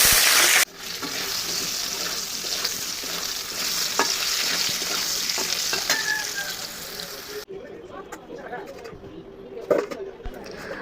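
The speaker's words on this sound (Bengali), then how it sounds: "তারপর আমি আলুগুলি ভেজে নেব।" Potatoes frying in oil for a raw jackfruit curry, heard as a loud continuous sizzle close by with intermittent stirring scrapes and clinks, a brief cut partway through, then a softer sizzle with a few sharp knocks.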